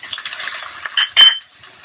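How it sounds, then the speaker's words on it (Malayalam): Chopped green peas, carrot and beans go into a pan for quinoa upma, giving a brief close clatter of spoon and pan with a couple of light metallic clinks and a soft scrape. "ഇതിലേക്ക് നമുക്ക് ഈ അരിഞ്ഞു വെച്ച പച്ചക്കറിയൊക്കെ ചേർക്കാം."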